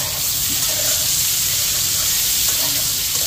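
Potatoes and pointed gourd (potol) frying in a pan for alu potol torkari, a steady close sizzle with faint crackling and no pauses.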